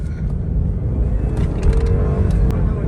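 A Lexus IS 300 F Sport rated at 240 horsepower accelerates hard, its engine note rising and droning steadily from inside the cabin at close range, with no one talking over it.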